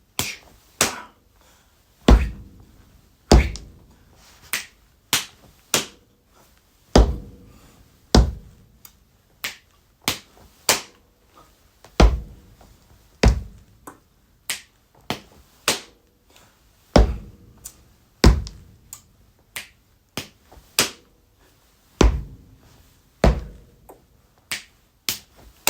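Beginner body percussion to a pop song, "Don't Start Now", with sharp finger snaps and slaps on the body repeating in a steady looping rhythm, close and crisp with no talking.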